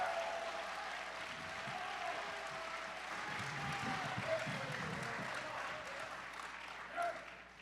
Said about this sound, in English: Guys, I think you can applaud louder than that.